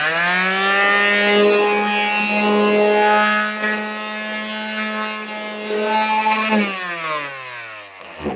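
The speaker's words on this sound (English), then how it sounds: "Then come back and finish up with the sander." Orbital finishing sander smoothing a wood edge: a close, steady buzzing drone with a strong hum that holds for several seconds and then winds down as the machine stops.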